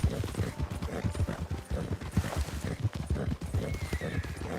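Horse hooves clip-clop in a steady, quick rhythm in a video game as a rider pushes the horse toward a stable near Tumbleweed, loud and continuous with occasional faint vocal sounds over the top.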